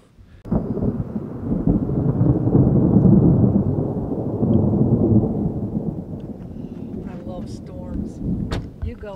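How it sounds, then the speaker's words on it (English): Thunder rolls and rumbles through a mountain thunderstorm with rain, a long low loud roar swelling and fading over several seconds, with wind buffeting the microphone and brief voices near the end. "Babe, you ready to hike in a thunderstorm?"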